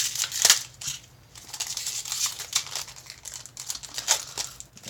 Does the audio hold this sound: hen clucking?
no